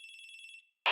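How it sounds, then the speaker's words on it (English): A house phone rings with a steady electronic trill for about half a second, then goes silent before a sudden loud burst of noise cuts in at the end. "You also hear a phone ringing."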